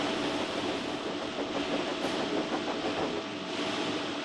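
A goods train rolls steadily along the track, a continuous broadband rumble and rattle of wagons at close range.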